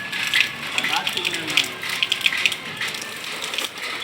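Water sloshes and splashes in irregular bursts while a large home fish tank holding a shark and koi is cleaned, with scattered bright droplet spatters over a steady watery wash, fairly close.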